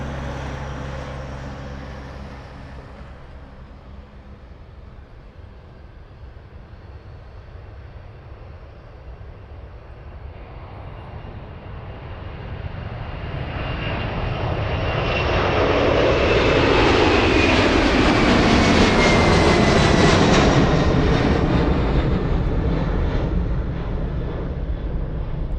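UPS Boeing 767 jet at Anchorage Airport, its engine roar rising from a low rumble to a loud, sweeping pass in the second half before easing slightly, with no voices.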